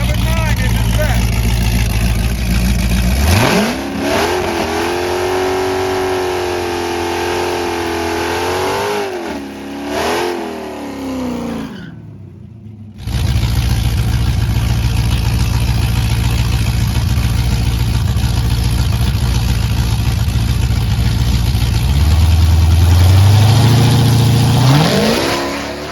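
A Dodge Charger Hellcat drag car idles with a deep rumble, then roars into a hard, sustained run, goes briefly quiet, and returns to loud engine noise with rising revs near the end. Voices are heard over it.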